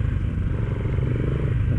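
A Yamaha PG1 motorcycle engine runs steadily in thick mountain mud, giving a dense, continuous low rumble with clattering and scraping mixed in and no talk over it.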